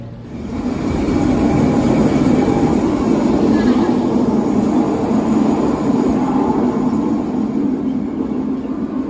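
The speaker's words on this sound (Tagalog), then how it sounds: "KB, we're going to ride the train." A train in motion near Vancouver gives a steady loud rumble of wheels and carriage noise, while voices speak over it.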